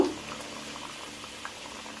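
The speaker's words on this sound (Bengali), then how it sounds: "তিন থেকে চার মিনিট ফুটার করে" A pot of liquid for a potato curry (aloo dum) boils over a gas stove turned down low, giving a steady soft bubbling simmer with no voices.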